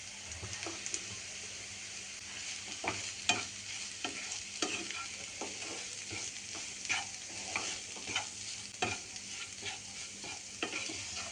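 Ground masala with garam masala and homemade spice mix being stirred and roasted in a pan for black chana masala, with a steady low sizzle and repeated scraping strokes of a spoon at close range, no voices.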